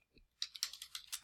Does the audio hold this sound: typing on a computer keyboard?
yes